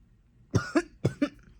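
Two pairs of sharp, close coughs, each a quick double burst, with a short pause between them and quiet room noise otherwise.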